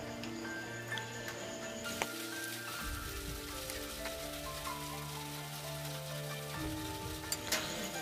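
Parippu vada, a lentil fritter, frying in hot oil at a thattukada-style stall, with a steady crackling sizzle and occasional sharp ticks, close and continuous with no speech.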